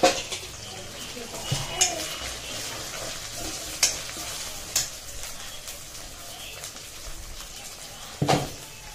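Ginger and garlic fry in oil for chicken biryani, a soft continuous sizzle punctuated by occasional sharp clinks of a spoon against the pan.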